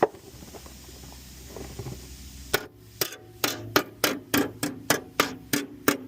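Steady hammer blows ring out one after another, about ten sharp metallic strikes in a quick, even rhythm after a few seconds of low rumbling.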